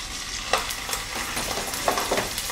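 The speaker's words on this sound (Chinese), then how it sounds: "我们主要就是要先把它每一面都煎上色" Square chunks of pork belly sear in a frying pan for Hakka braised pork, giving a steady crackling sizzle with a few sharper pops. No one speaks.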